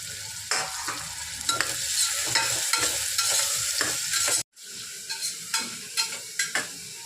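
Onions sizzle steadily in hot oil in a home kitchen, with repeated stirring scrapes. The frying briefly cuts out, then resumes with a spatula tapping and scraping.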